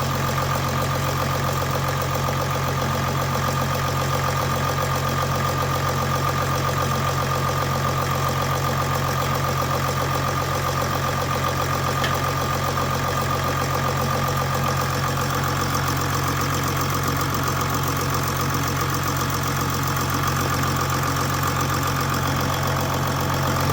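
A Mercedes OM642 diesel engine idles steadily just after a timing chain tensioner replacement, a close, even mechanical drone with a faint rhythmic ticking and no voices throughout.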